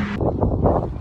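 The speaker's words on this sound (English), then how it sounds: "Pretty windy." Gusty wind buffets the microphone in low, rumbling bursts at the hoodoos in an Alberta desert, loud and close, with a brief higher hiss at the start.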